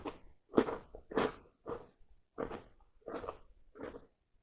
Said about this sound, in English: They've got a nice crunch to them.